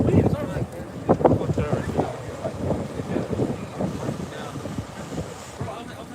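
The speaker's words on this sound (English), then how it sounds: "Now, obviously, it's still cold and really windy" Strong, cold wind at an outdoor camp in Nashville, buffeting the microphone in low rumbling gusts beneath people talking nearby.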